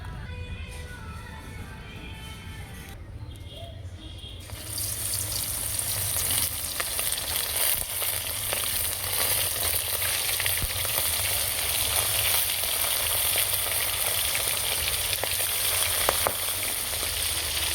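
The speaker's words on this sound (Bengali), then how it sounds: "বেসন মাখিয়ে আমি খয়রা মাছটা ভাজবো" Khoira fish coated in gram flour drops into hot oil and starts frying; after a quieter start, a loud, dense sizzle takes over and holds steady at close range, with no talk.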